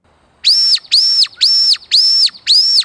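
A squirrel-call whistle imitating a baby squirrel in distress gives five shrill, evenly spaced, sustained piping notes, each rising and falling at the edges, loud and close with silence between them.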